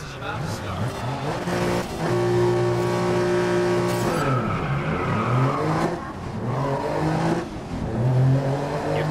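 Race cars on a GRID street circuit rev hard at the start, with engines droning and rising in pitch, tyres squealing and several cars roaring close together throughout.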